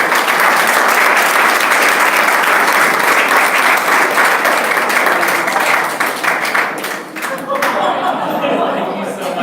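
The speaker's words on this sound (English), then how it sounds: "Round of applause for Paul." An audience at a coffee talk gives a loud, sustained round of applause that fills the whole stretch, then thins and fades near the end, with a few chuckles and some chatter mixed in.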